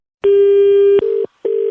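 A telephone line tone sounds after a call is hung up. A long, steady, loud electronic tone is followed by two shorter beeps separated by a brief gap, with no other sound.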